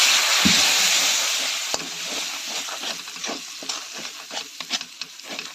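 Spice masala of turmeric and red chili with a splash of water sizzles loudly in a pan for potato dum, with steady close stirring and scraping that gradually eases into softer frying crackle.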